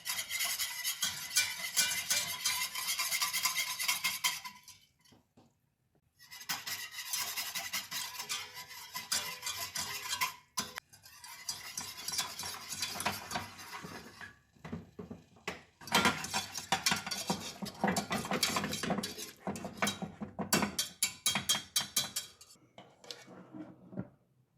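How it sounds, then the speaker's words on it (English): A whisk scrapes and clatters steadily against a pan as a potato starch and cold water gel thickens over heat, in several long bursts separated by brief pauses, with no talking. "Combine the potato starch and cold tap water. Whisk frequently as you heat it."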